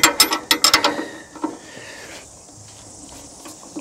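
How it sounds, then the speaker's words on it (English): A ring spanner loosens a bolt on a Turbosawmill, giving a quick run of sharp metallic clicks up close, then a few softer knocks that fade into quiet. "we'll loosen this one up. And use the ring spanner"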